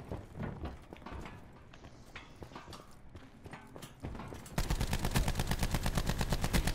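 Spitfire weapon in Call of Duty Black Ops 4 firing in short bursts of rapid cracks, followed by a louder sustained string of evenly spaced shots near the end.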